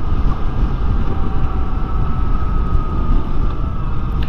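A Yamaha Tracer 9 three-cylinder motorcycle engine hums steadily at low revs while riding, with a loud, continuous drone and wind rush and no talking.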